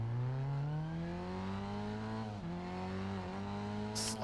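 A rally car engine in a racing video game drones steadily at high revs, with pitch rising gradually and two brief dips around gear shifts, continuous and close with no talking.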